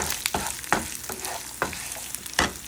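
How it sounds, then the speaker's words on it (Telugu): Coriander seeds and cumin sizzle in a pan for a radish pickle, with a close background crackle broken by several sharp scraping stirs at uneven intervals. "దీంట్లోనే ధనియాలు అలాగే జీలకర్ర ఇవి రెండు కూడా వేసేసుకొని కొంచెం వేయించుకోవాలి"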